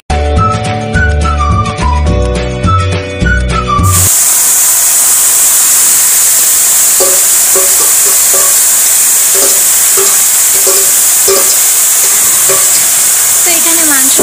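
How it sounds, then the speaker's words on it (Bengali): After a few seconds of music, spice-marinated meat sizzles loudly in a hot kadai, with a strong constant hiss and occasional stirring scrapes close by. "তো এখানে মাংস কড়াইতে দিয়ে দিয়েছি, আর মাংসটা ভালো করে কষানোর জন্য একটু নাড়িয়ে চাড়িয়ে সেটা দিয়ে রাখবো।"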